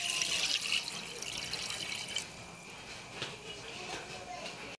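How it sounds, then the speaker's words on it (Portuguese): Water pours into a cooking pot for a Brazilian pot stew, a steady splashing, hissing flow that is loudest at the start and then continues more softly. "E agora vamos botar água até cobrir."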